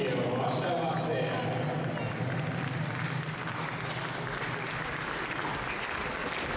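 An audience at the Princess of Sport Winter Fairy Tale 2022 competition gives a loud, sustained ovation, its dense continuous clapping running unbroken from start to finish.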